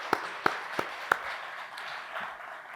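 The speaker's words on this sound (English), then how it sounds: "So, just another round of applause for them." At a museum exhibition member preview, a small audience gives a few distinct, crisp hand claps that quickly thin out into faint scattered clapping in a quiet room.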